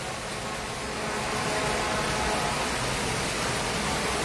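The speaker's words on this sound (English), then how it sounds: "And by the way, the rain hasn't stopped." Heavy storm rain in Carlisle, a dense, steady broadband hiss that holds evenly throughout and grows a touch louder early on, with no voices.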